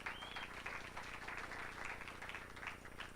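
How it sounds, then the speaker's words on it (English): Audience clapping at a strategic plan launch event in Kenya as a young man is introduced, a faint, steady patter of many hands heard at a distance, sustained without talk. "Let's clap for Ibrahim."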